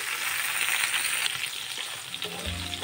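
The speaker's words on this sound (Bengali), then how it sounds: "তেলটা গরম হয়ে গেছে, ভেন্ডিগুলো তেলের মধ্যে দিয়ে দিচ্ছি।" Okra fries in hot oil with a close, steady, even sizzle, ending in a low thump.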